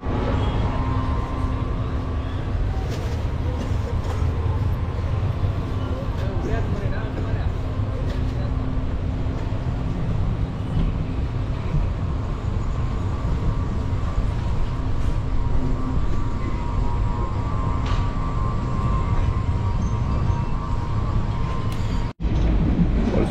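Steady loud rumble and rattle of a moving Palakkad SF Express passenger train heard from inside a carriage, continuous throughout with a constant hum and occasional clicks.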